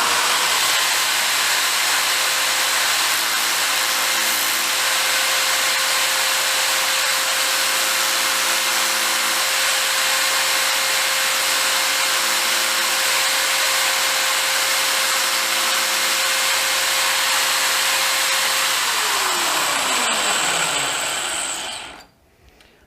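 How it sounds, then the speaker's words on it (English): An electric drill, locked on at full forward speed, re-edges a flat wood bit with a steady, loud, continuous whine for nearly twenty seconds, then spins down and falls silent. "You put your drill in its normal forward speed, and just let it go at full speed,"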